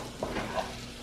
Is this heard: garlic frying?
yes